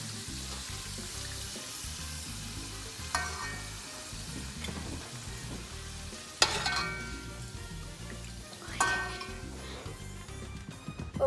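Empanadas sizzle and bubble in hot oil, a steady crackling fry punctuated by a few sharper clinks and splashes as pieces are moved around the pan.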